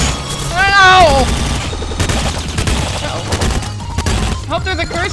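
Enemies shooting in the video game Nuclear Throne on hard mode, with rapid, dense bursts of gunfire and impacts running continuously under chiptune-like game sounds.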